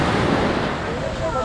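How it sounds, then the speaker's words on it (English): Big sea waves surge around a boat departing for Butterfly Valley near Fethiye, Turkey, heard as a steady, close, full-bodied roar of rushing water mixed with blustery wind buffeting the microphone for the whole moment. "The waves are big."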